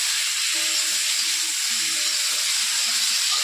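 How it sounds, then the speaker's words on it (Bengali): Cauliflower and potatoes frying in a pan give off a steady, close sizzling hiss that runs unbroken throughout, with faint low clatter underneath. "ফুলকপি আলু ভাজা হবে, ব্রাউন কালার হবে ফুলকপিতে"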